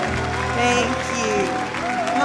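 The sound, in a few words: audience cheering and applauding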